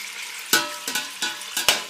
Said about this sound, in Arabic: بعد ما خلينا الدهن واللحم بالجدرية نبدي نقلب بيه حتى يتحمص اللحم